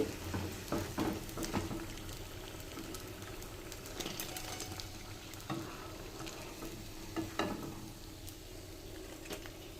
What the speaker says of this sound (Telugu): స్టవ్ని మరీ హై ఫ్లేమ్లో కాకుండా మీడియం నుంచి హై ఫ్లేమ్లో వీటిని డీప్ ఫ్రై చేసుకోవాలి